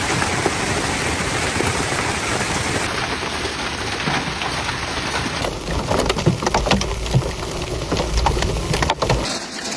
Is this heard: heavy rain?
yes